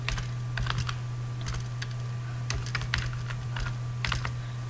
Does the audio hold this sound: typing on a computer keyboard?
yes